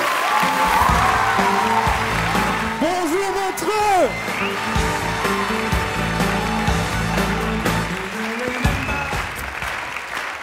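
Audience applause and cheering at the Montreux Comedy festival as a comedian comes on stage, a loud, continuous crowd roar with clapping that carries under a voice greeting the room and a brief exchange on stage.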